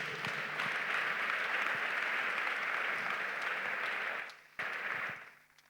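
A church congregation applauds together in a sustained, even burst of clapping that cuts off briefly, resumes, then fades away, heard from within the crowd.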